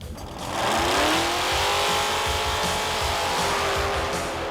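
A drag racing car engine roars loud and close, rising in pitch as it revs up and then holding a sustained, throbbing drone with no voices over it.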